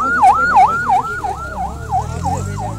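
An ambulance siren wails loudly and close at a street protest in Kotli, Kashmir, its rising and falling cycle repeating about every third of a second, with crowd and traffic rumble underneath.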